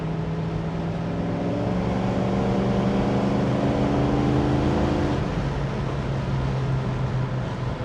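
A restored 1968 Ford Mustang Fastback with a 289 V8 drives along, its engine a steady, loud drone with harmonic tones that shift slightly and drop at about five seconds, with no talking.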